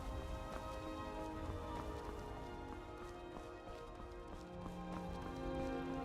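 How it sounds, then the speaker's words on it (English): Horse hooves clip-clop in a steady walking rhythm within the game Skyrim, soft and close, over light rain-like background ambience. "Here's my horse."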